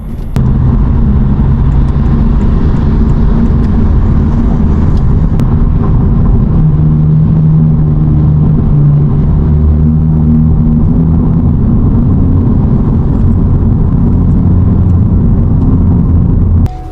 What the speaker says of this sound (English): you can hear the road and the freeway inside the cab